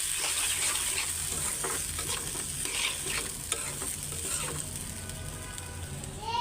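Spice paste of chili, ginger-garlic paste, turmeric and salt fries with onions in oil, a continuous close sizzle with repeated scraping strokes of a spoon stirring in the pan.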